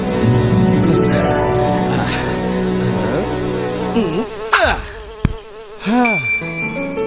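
Cartoon bees buzz around honey in an animated Tamil story. The buzzing is loud and close, with wavering, swooping pitches that rise and fall as the bees fly about, and it comes with no talking.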